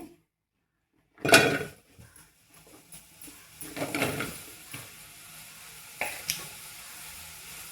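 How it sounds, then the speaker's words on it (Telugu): Okra sizzling in a pan on the stove, with a sharp burst as the pieces go in, then a steady low crackle and intermittent stirring scrapes, fairly close and without talk. "ఇప్పుడు దీంట్లో కొంచెం బెండకాయలు వేసుకొని ఫస్ట్ బెండకాయలు మగ్గిస్తామని"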